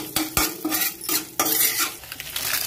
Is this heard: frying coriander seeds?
yes